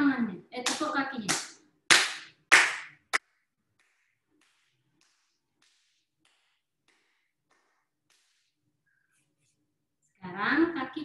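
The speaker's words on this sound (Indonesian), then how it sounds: "Tepuk tangannya." Hand clapping and patting of the feet during a yoga session: sharp, loud slaps in a quick rhythmic burst, mixed with a voice speaking over them, then a long near-silent stretch before talking resumes.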